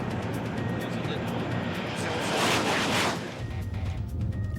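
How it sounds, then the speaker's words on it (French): A high-speed train at world-record speed roars past in a continuous loud rush that sounds like an aircraft, swelling briefly mid-way, with speech over it. "Écoutez ce bruit. Ce n'est plus celui d'un train. C'est déjà le bruit d'un avion."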